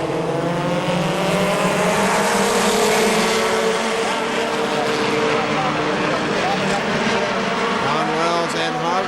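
Stock cars race at KilKare Speedway, their engines droning loud and close with rising and falling whines as the cars pass, and a commentator talks over the racing.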